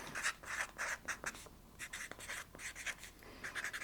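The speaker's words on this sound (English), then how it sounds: "So let's write their little blurb." A pen scratches across paper in short bursts of strokes with small pauses between them. The sound is close and quiet, with no talking.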